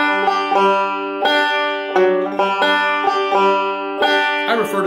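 A banjo plays a rolling backup lick from the beginner tune Salt Creek, with forward rolls and pinches picked in a quick, even pattern of bright plucked notes, close and alone.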